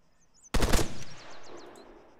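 A short automatic burst of rifle fire in ARMA 3 cracks out loudly and close, fading into a brief echoing tail over faint outdoor ambience with distant bird-like chirps.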